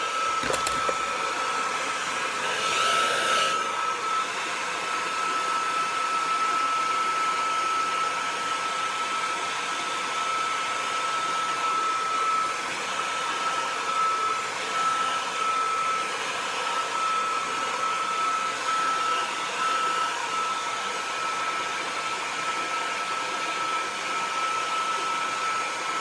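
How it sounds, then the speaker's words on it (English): A hair dryer blows continuously while 4C hair is dried and combed, a loud, steady whooshing hum that runs the whole time with no talking. "I'm starting off by keeping the dryer already, and on the way I'm going to comb it."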